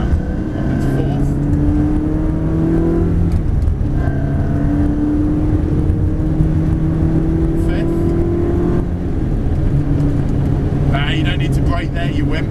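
A Ferrari 360 screams around the Dunsfold test track, its engine climbing in pitch through each gear, loud and close, with an instructor's voice talking over it.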